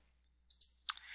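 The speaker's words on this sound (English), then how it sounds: "you can do that by just clicking" Computer mouse clicks during a software tutorial, a few sharp quiet clicks in quick succession against near silence, with no talking.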